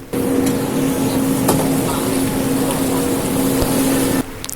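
A river tour boat cruises through Paris with a steady, close engine drone and a sustained low hum, heard from the upper deck, continuous until an abrupt cut near the end.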